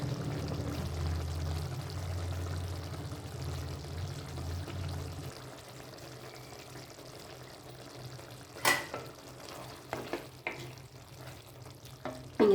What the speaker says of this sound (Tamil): ஆனாலும் குழம்பு கொதிச்சிட்டே தான் இருக்குது